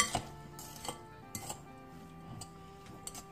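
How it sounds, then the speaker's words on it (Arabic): A utensil mixes batbout stuffing ingredients, including hard-boiled eggs and tuna, in a bowl, giving quiet scattered clinks and scrapes against the bowl with no talking. "ونخلط هاد المكونات ديالي"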